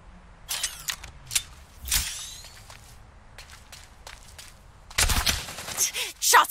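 Gunfire in the mech battle game Super Mecha Champions, with sharp bursts and cracks spread across the scene, a heavy cluster near the start, another mid-way and a loud dense volley toward the end, mixed with footsteps and other game noises.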